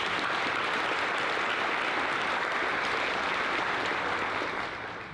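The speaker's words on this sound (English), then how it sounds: "Let's give them another round of applause." At a school world language honor society induction ceremony, the audience gives a sustained round of clapping, a dense, even patter through the hall that thins slightly at the end.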